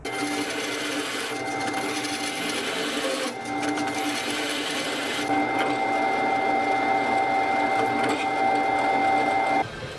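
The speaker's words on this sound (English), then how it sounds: "So I am ready to continue by drilling some holes in this plate so that I can mount the stepper motor." A drill works steadily on an aluminum plate, holes for mounting a stepper motor on a DIY CNC router Z-axis, a continuous whining hum with tonal pitch shifts and brief pauses, moderately loud.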